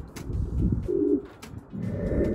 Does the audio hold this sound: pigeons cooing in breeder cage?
yes